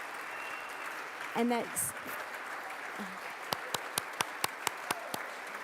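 Scattered clapping from the audience at an awards ceremony, about a dozen distinct, evenly spaced claps following a brief spoken phrase over quiet room noise.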